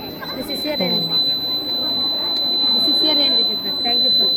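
A steady, high-pitched rain detector alarm buzzer runs continuously beneath a voice talking throughout, at a school science day event.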